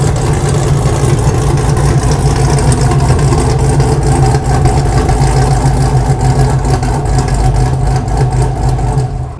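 A car engine runs steadily and loudly up close as the vehicle rolls into a six-car garage and shop on a rainy day, with a constant low rumble and no talk.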